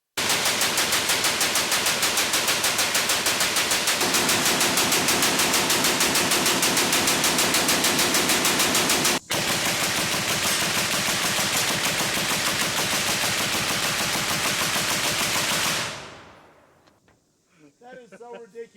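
An M2 heavy machine gun fires one long, sustained burst of loud, rapid shots for about fifteen seconds with a momentary break partway through. It then cuts off into near silence.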